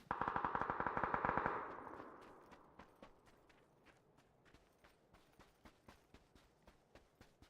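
Gunfire in PUBG opens with a close, rapid burst of sharp shots that fades out, followed by a steady series of softer, evenly spaced taps.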